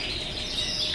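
Yorkshire canaries at a breeding farm in Turkey fill the air with a dense, continuous chorus of high chirps and trills, many birds sounding at once, steady and fairly loud.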